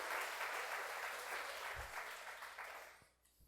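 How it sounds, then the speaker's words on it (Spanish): A church congregation applauding during a Sunday service, a dense wash of clapping that holds steady, then thins and fades out toward the end. "Dale un aplauso al Señor, por favor."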